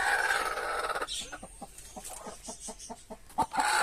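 Brooding hens cluck in a quick, repeated series of short calls, fairly close, with a louder squawk near the end.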